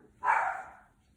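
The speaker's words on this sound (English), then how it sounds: "Oh, there's my dog barking." A single short dog bark, fairly close and clear, rising quickly and fading over about a second against a quiet background.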